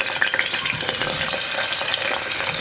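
Potatoes and other cut vegetables hit hot oil in a pressure cooker for sambar, giving a bright, steady sizzle with light crackling, close and alone without talk.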